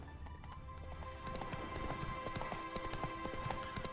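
Horse hooves clip-clopping steadily in The Witcher 3: Blood and Wine, a rhythmic trotting gait with faint game ambience underneath, no talking.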